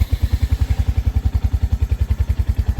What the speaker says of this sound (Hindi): बाइक को पहले करते हैं कोल्ड स्टार्ट